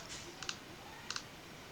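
Two quick double clicks of a computer mouse while working in AutoCAD, crisp and close, separated by a short pause over faint room hiss.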